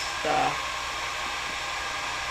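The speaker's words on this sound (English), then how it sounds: "then you can blow dry with a blow dryer" A handheld hair dryer blows steadily to dry alcohol inks on Yupo paper, a constant broadband whoosh running the whole way through with a faint brief tonal whine near the start.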